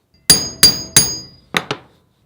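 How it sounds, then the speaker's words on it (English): An impact driver works old, long-seated Phillips head screws loose on a bobber motorcycle build, with five loud, sharp metallic blows: three evenly spaced, then two quicker ones, each ringing briefly, close up and with no talk. "I'm going to use my impact driver again because I got a feeling these things have been in here a long time"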